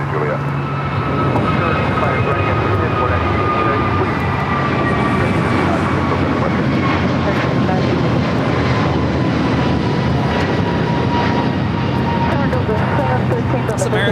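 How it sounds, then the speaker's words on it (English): An American Airlines Airbus A321neo jet takes off at LAX, its engines a loud, sustained roar with a rising whine, while voices talk over it throughout. "It's American Airlines Flight 59 taking off to Kailua Kona on the A321neo"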